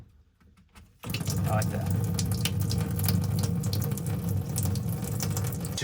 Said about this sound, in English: So let's take it to the sink and drain it out.